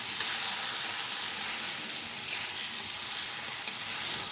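Cabbage and rohu fish-head curry being stirred in a frying pan, with steady close oily sizzling and frying hiss running unbroken throughout, no voices present.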